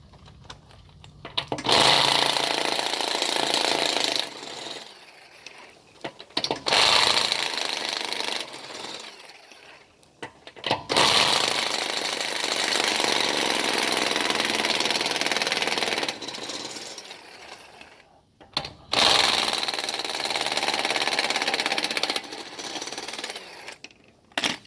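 A power impact tool hammers lug nuts loose on a 2013 Nissan Pathfinder wheel, delivering several long, loud rattling bursts of rapid impacts separated by brief gaps.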